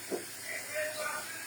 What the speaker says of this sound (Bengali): তো টোফুটা একদম স্ক্রাম্বল করে আমি একটু ভেজে ভেজে নিচ্ছি।